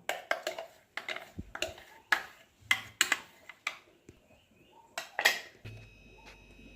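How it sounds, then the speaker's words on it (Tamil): Thick jackfruit paste scraped from a mixer jar into a bowl, a string of sharp metallic clinks and scrapes of spoon on steel, close and separated by short pauses, with a faint ringing tone near the end. "பேஸ்ட்டை இப்போ ஒரு பவுலுக்கு மாற்றிக்குவோம்"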